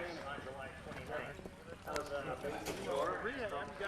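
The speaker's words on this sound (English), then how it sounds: "I was just watching that horse take off." A horse's hooves clip-clop on the ground as it takes off, a quick run of soft thuds partly masked by people talking nearby.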